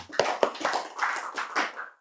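A few distinct hand claps ring out near and sharp in an Islamic religious gathering, followed by an uneven patter of scattered clapping that trails off.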